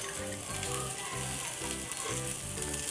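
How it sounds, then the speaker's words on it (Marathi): Onions fry in a pan with a dense, continuous crackling sizzle, close and steady throughout, with a faint rhythmic low pulse beneath. "कांदा भाजून घेऊया आता मस्त गुलाबी रंगावर।"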